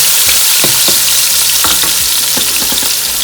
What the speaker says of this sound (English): if the oil is hot, is when you put it in and you get an instant sizzle